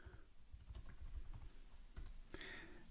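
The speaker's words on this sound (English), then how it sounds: "you can do that by typing it here" Steady clicking keystrokes on a computer keyboard, close and moderately quiet, forming an uneven typing rhythm with a louder tap near the end and no speech.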